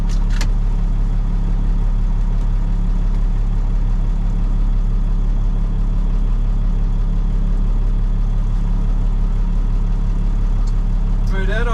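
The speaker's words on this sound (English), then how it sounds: "We'll give that turbo just a second to idle." A 1998 International 4700 truck with a DT466e diesel engine idles steadily, a loud, constant low rumble with a continuous drone and no change in rhythm throughout.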